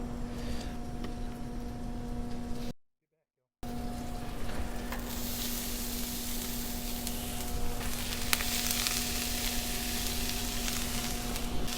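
Diced sweet onion and jalapeno frying on a Blackstone flat top griddle, a steady broadband sizzle that holds continuously, broken by one short silent gap, with a faint low hum beneath.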